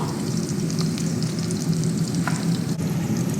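Ingredients for a vegetable biryani fry in a pan with a steady, dense sizzle and crackle, close and even throughout, with no talking.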